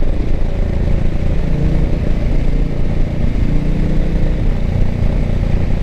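A Ducati Diavel motorcycle cruising on the Beltway highway gives a continuous, loud, low engine drone mixed with heavy wind rumble. The sound stays steady with no pauses and no speech.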